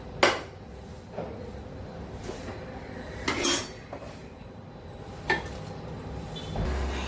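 Leftover sautéing oil stirred and poured into rasam, a few sharp metal clinks and scrapes of a spoon and vessel spaced out over quiet kitchen background, no talk.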